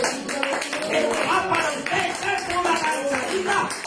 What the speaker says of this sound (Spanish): Yo no sé cuántos le pueden dar un aplauso sin gracias.